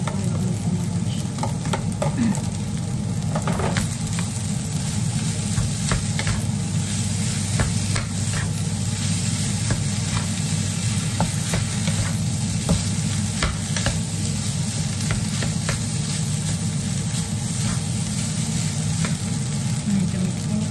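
Salmon fried rice with tuyo stir-frying in hot oil gives a steady, close sizzle with frequent scraping and stirring clicks of a utensil against the pan, continuing throughout.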